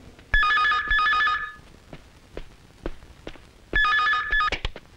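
A telephone rings twice, two bright trilling bursts separated by a pause, with a few soft knocks and footsteps in between.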